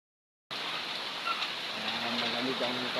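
Steady rain falls without letup after a brief silence, a dense even hiss with a faint low hum underneath throughout.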